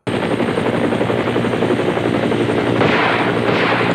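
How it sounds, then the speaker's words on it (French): Helicopter in the action film Dragon Kickboxers, a loud, steady rotor and engine roar that holds for the whole stretch and swells slightly near the end, with no voices. "L'hélico ne met pas longtemps pour les trouver"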